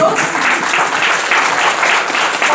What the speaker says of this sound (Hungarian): Egy nagy tapsot kérünk.